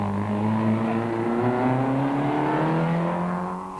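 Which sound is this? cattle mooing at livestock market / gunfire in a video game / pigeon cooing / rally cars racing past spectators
rally cars racing past spectators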